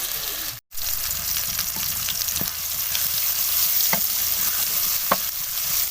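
Chopped tomatoes sizzle and fry steadily in a hot pan, with occasional stirring scrapes and pops; no talking.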